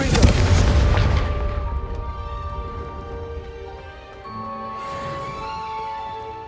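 A Confringo fire spell blasts in Hogwarts Legacy, a sharp booming burst that rolls off into a fading rumble, followed by quieter ambient game tones.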